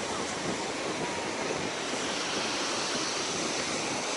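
Steady, loud rushing of Baltic Sea surf at Zelenogradsk fills the whole stretch, a continuous wash of breaking water with no voices.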